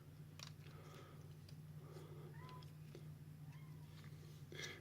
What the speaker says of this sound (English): hear my cat meowing through the door